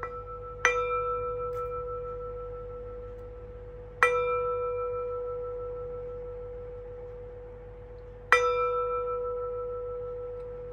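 A meditation bell rings three times during a breathing exercise. The strikes come about four seconds apart, and each one rings out clearly and fades slowly in an otherwise quiet space.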